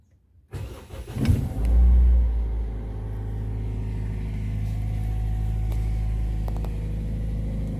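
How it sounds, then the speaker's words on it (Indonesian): A car engine cranks briefly and catches, surging up loudly before settling into a steady, fairly high idle that holds on without talk. "Yang pertama-tama marilah kita hidupkan dulu mesinnya."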